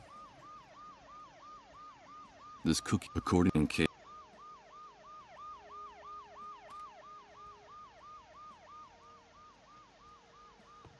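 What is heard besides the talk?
ambulance siren in video game Dead Synchronicity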